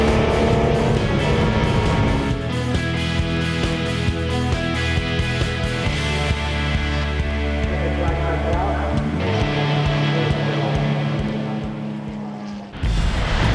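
A classic Ferrari racing car at night at Le Mans, passing under the Dunlop Bridge: a loud onboard engine drone with shifting pitch as it accelerates and changes gear, steady and close throughout.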